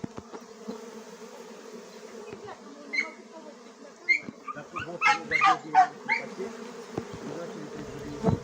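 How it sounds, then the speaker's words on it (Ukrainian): A honey bee swarm buzzes steadily in an apple tree during swarm capture, with louder bursts of buzzing in the second half and a person talking nearby. "Зараз покажу, як знімаю рой."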